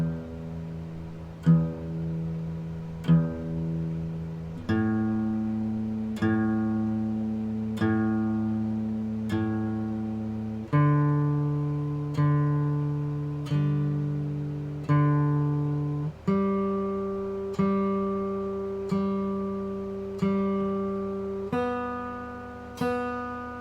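Guitar strings are strummed slowly with a pick, each chord ringing out and decaying before the next downstroke, around a dozen chords in an unhurried, even pulse with no talking.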